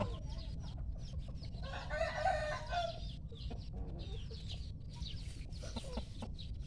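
A rooster crows once loudly nearby while hens cluck intermittently around it against a low outdoor background.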